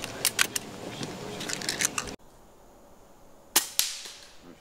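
FX air rifle shots at a field target competition: a few sharp, snappy cracks stand out at close range, with scattered clicks and handling noise before a quiet pause, then two more crisp shots.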